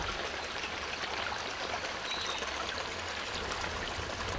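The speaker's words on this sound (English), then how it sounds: "behind someone's house, you can just hear a stream flowing" A small stream flows behind houses in Shillong, a steady continuous trickle of running water heard close and alone, with no voices.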